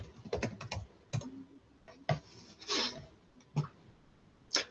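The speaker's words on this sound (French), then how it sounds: "On va plutôt taper digital." Search term typed on a computer keyboard, close and crisp, in irregular clusters of key clicks separated by short pauses.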